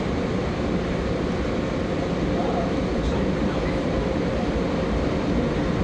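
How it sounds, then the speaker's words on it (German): The Nightjet night train, with Hungarian carriages bound for Budapest, rolls into a station with a steady, broad rumble and rushing noise that holds at an even level throughout, close and continuous. "Kaum ist der Zug nach Regensburg raus, schon kommt unser Nightjet eingefahren."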